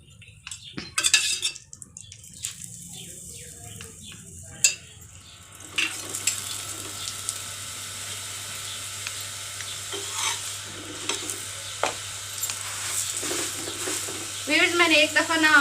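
Ghee brushed onto a roti cooking on a hot griddle in a home kitchen: after a few quiet utensil clinks, a steady sizzle starts and runs on with light scraping, and a voice briefly cuts in near the end.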